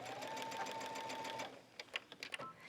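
A sewing machine stitching a seam on a sweater jacket, a fast steady mechanical whirr for over a second that stops, followed by a few soft clicks and handling taps, quiet and close.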